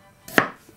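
A single knife chop through a red onion, one sharp close thud that fades quickly, with no talking.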